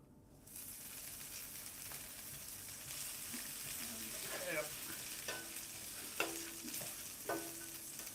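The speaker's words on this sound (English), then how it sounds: "And now we're gonna mix it all up." Potatoes tossed in a pan with chili powder, salt and melted butter give a steady sizzle with scraping stir strokes and a few sharp clinks of a utensil against the pan, close and continuous, with no talking.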